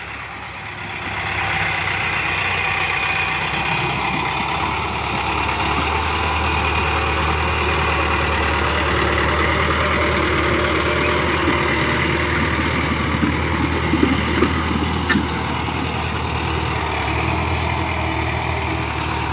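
A diesel CRDI engine with a thin aftermarket silencer idles steadily for a long stretch, giving a constant low rumble close by with no speech.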